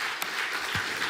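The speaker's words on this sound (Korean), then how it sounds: "우리를 사랑하시는 주님께 감사와 영광의 박수로 한번 올려드립니다" A church congregation at a special thanksgiving revival service gives a brief round of applause, with a steady wash of many hands clapping that is over in about a second.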